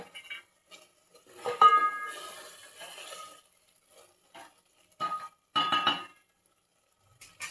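A metal spoon scrapes and clinks against a pot while scooping oil off the top of chicken biryani into a dish, producing short, close, separate bursts with quiet gaps between them.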